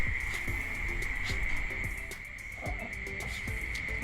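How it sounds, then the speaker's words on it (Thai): Small frogs croak in repeated short calls against a steady high insect drone, a dense outdoor night chorus with no voices. "เสียงเขียดก็มีนะคะ"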